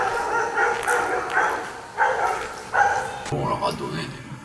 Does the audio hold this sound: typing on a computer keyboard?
no